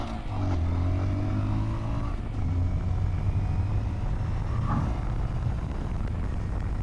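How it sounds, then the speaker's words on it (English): A 2023 Honda Monkey motorcycle is ridden at full throttle in fourth gear, a steady droning engine note with a brief dip around a shift, heavily buffeted by wind rush across the whole stretch. "So I'm full throttle right now"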